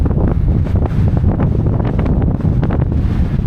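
Strong wind on the North Shore coast of Anglesey buffets the microphone in loud, continuous low roaring gusts, with a faint wash of sea beneath and no voices.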